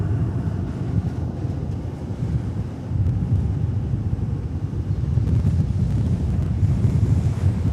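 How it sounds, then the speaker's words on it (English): Strong wind blows steadily at an outdoor plane-spotting spot beside DFW Airport, a continuous low roar and buffeting that swells slightly toward the end, with no voices. "Here we are holding down the fort as the wind continues to blow."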